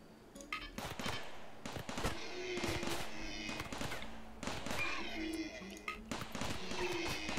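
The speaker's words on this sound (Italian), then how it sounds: "se sparano male queste torrette" Automated turrets fire in the RimWorld game in irregular bursts of sharp cracks and pops, some in rapid clusters, fairly faint under a busy game background, with no talk.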